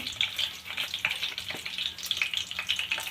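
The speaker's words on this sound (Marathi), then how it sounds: "आणि यामध्येच बाकीचे मसाले त्या तेलामध्येच भाजून घेणार आहे आपण। जिरे, मोहरी," Cumin and mustard seeds frying in hot oil for a paneer and peas curry, a steady close sizzle with scattered crackles and pops running throughout, no voices.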